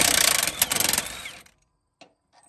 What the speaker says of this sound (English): I'll throw an impact with a socket on the other end.